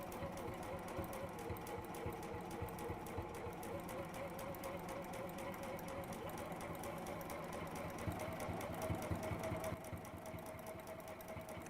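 A sewing machine runs steadily with a fast, even mechanical chatter of stitching, close up and continuous. Soft talk is faint in the background.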